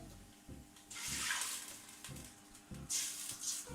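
Water is poured into a pan of cooking tomato paste for Bombay potatoes, making soft bursts of splashing and sizzling that come and go in a few separate pours, close by with no talk.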